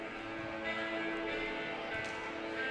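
A deep church bell tolls slowly at the opening of a song, played over the speakers in a high school gym during a girls volleyball match, ringing steadily over crowd murmur.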